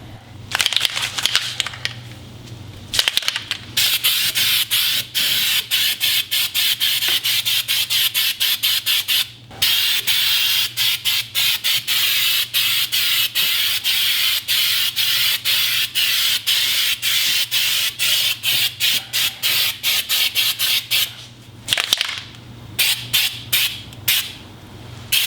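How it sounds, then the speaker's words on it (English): An aerosol can of undercoat hisses in long bursts onto the underside of a car, each spray broken by brief pauses, loud and close throughout. "So grab our can of undercoat and spray this down again."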